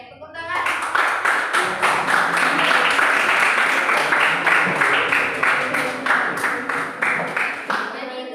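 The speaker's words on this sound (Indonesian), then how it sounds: "Oke, tepuk tangan." A class in an Arabic lesson claps together in quick, regular rhythmic bursts, a bright, sustained wave of hand claps filling the room and fading at the end.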